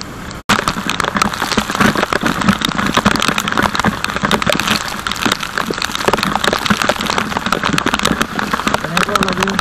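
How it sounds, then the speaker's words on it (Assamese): Heavy rain falls near a river in dense, continuous hiss and patter. It starts abruptly after a brief quieter moment, with a voice faintly under the downpour. "বৰষুণ,"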